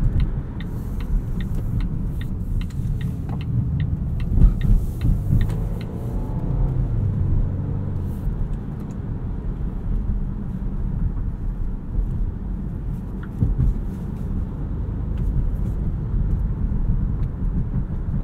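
A 2020 Volvo V60 Cross Country T5 AWD with its four-cylinder engine drives along, heard from inside the cabin as a steady low rumble of road and engine noise, with a few faint clicks early on and no talking.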